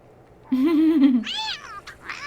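A cat meows in The Sims 2 video game, one drawn-out, rising and falling meow followed by a shorter, higher second call, clear and close with no talking.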